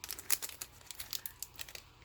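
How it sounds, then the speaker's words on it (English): A small plastic bag holding a tiny craft blending brush crinkles as it is opened, giving a brief run of close, crisp rustles and crackles in quick irregular bursts. "So if we open it up, what you're gonna find inside of this"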